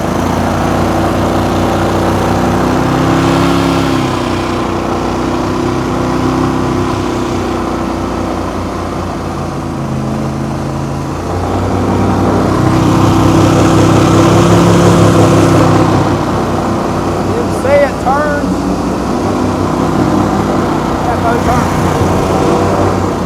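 A Gator Tail 1750 Savage boat with a Gator Tail 40XD outboard motor hums steadily through a turn, the engine drone loud and continuous with a slight swell in pitch partway through, while someone talks over it.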